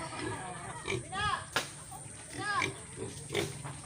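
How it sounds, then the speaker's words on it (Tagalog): Pigs grunt and squeal repeatedly at close range over a noisy background, after Typhoon Ulysses in Camarines Norte, Philippines. "baboy."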